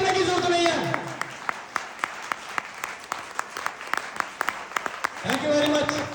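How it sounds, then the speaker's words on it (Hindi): Audience applause in a hall during a Hindi poetry or speech event, with dense clapping at the start and end and scattered individual claps in between, while a speaker talks over it. "अरे तालियां बजानी है तो दिल से बजाओ"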